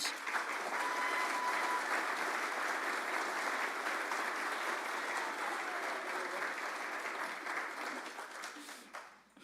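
Sustained audience applause at a Rotary Club of Tulsa gathering as the mayor is welcomed to the stage, a dense, steady roomful of clapping with some cheering, holding for several seconds before tapering off at the end.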